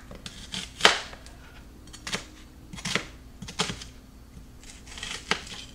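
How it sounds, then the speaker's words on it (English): A knife slices through an onion, making a series of crisp, close cuts that land on a board in an uneven rhythm, about eight distinct chops with quiet gaps between them. "I'm just going to cut it in half. Make slices."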